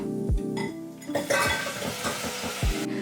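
Spinach dropped into a pot of hot olive oil and garlic, with a few clinks and stirring knocks against the pot over a soft sizzle, close up and without talk.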